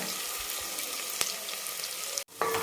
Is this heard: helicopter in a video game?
no